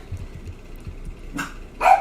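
A dog barks at a neighbor in two sharp bursts near the end, the second louder, after a stretch of quiet low rumbling in a room.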